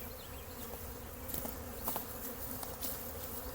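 Honeybees from a tree colony buzz steadily during relocation to a new hive, a dense continuous drone with a few individual bees passing closer and briefly louder.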